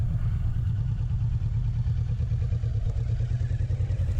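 A 2023 Kawasaki Vulcan S motorcycle weaves slowly through a cone course, its engine running steadily at low speed with a continuous throbbing, close and fairly loud, with light mechanical clatter and no voices.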